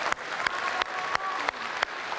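An audience applauds at an Indonesian presidential debate between Jokowi and Prabowo, with steady, moderately distant clapping from a large crowd and a few sharper claps standing out.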